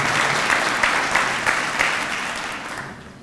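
Audience applause for dignitaries at an awards ceremony, a steady room-filling wash of clapping from a seated crowd that slowly fades toward the end.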